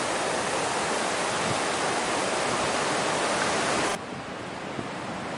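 Sea at Ryhope Beach on the southern edge of Sunderland gives a steady, dense wash of surf noise, loud and unbroken, dropping abruptly in level near the end.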